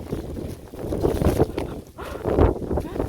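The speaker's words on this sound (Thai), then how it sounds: "ลมมันแรงครับผม" Strong wind buffets the microphone outdoors while a small Thai Chula kite is flown, producing continuous rumbling, fluctuating gusts with no speech.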